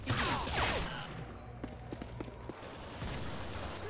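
Gunfire from the shooter game Modern Warfare 2, with a loud burst of shots at the start followed by a string of sharp, separate cracks and distant pops across the rest of the moment.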